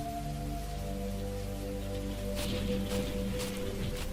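Storm rain sound effect for a Hindi horror story, a steady close downpour patter over a low humming drone, with a few sharper gusty bursts near the end and no speech.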